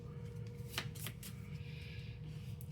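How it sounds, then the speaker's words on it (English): A deck of province cards for the Purim board game is shuffled quietly at close range, a few soft riffling bursts of card flicks in a hushed room. "We're going to shuffle the province cards"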